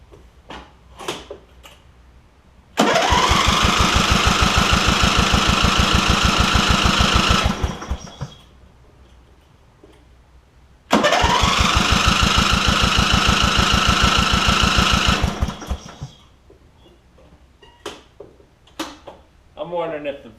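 A Briggs & Stratton engine on a Craftsman lawn tractor, fitted with a Hipa carburetor and suspected of sticking valves, cranks in two loud, rhythmic, chugging bursts of about five seconds each, separated by a quiet gap with small clunks and handling noises.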